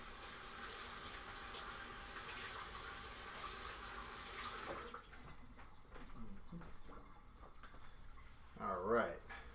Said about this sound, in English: wash my hands a little.